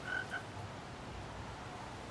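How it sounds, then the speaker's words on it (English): Frogs croaking faintly in Skyrim with heavy mods, two short quiet croaks near the start over a low ambient hum, no talk. "The frogs."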